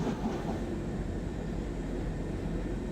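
Train running in the Train Sim World 4 video game, a steady, continuous low rumble of rolling stock with a hollow, enclosed quality, heard alone without talk throughout.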